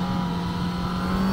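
Sports motorcycle exhaust, a Yamaha R1 nearly new with about 30 miles on it, holding a loud steady drone at moderate revs with a slight rise toward the end, close up and without talk.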